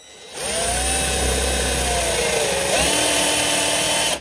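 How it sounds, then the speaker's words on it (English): Power drill with a countersink bit boring into painted wood, a loud close whine that runs steadily for about four seconds, dipping in pitch briefly under load before stopping abruptly, no talk. "You just put it in your drill."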